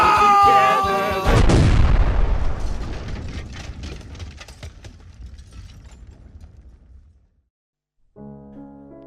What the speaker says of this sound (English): They all die in an explosion